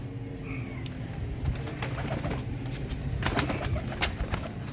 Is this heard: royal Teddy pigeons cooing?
yes